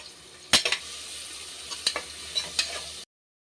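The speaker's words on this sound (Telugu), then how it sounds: "ఇవి బ్రౌన్ కలర్ వచ్చేంత వరకు బాగా ఫ్రై చేసుకోవాలి" Onions frying in oil inside a pressure cooker for mutton curry, with a soft sizzle broken by a few sharp stirring clinks before the sound cuts off.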